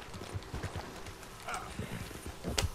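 A horse's hooves clip-clop in Red Dead Redemption 2, a run of rhythmic hoofbeats at close range with some sharper thuds toward the end.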